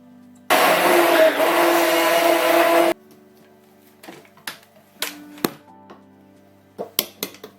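A blender whirs loudly and steadily for a couple of seconds as it mixes a baobab smoothie with oat milk. It cuts off abruptly, and a few light clinks and knocks follow in a quiet kitchen.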